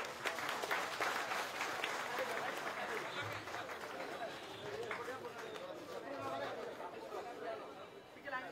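Applause and cheering break out at a political rally to welcome a speaker, a dense, steady wash of clapping and crowd chatter filling the space for several seconds.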